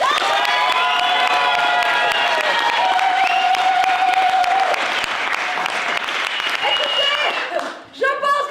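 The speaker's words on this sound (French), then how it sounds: "S'il vous plaît, à l'applaudimètre pour le deuxième candidat" Applause and cheering from an improv show audience rating the second contestant on an applause meter, steady crowd noise with whoops and voices mixed in, close and loud throughout before dipping briefly near the end.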